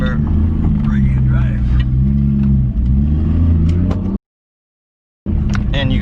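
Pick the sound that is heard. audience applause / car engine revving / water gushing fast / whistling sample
car engine revving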